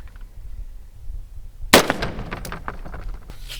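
A single loud, sharp gunshot from a 5.56 FMJ round striking a Militech armor plate, with a brief ringing tail and scattered clattering afterward, no speech.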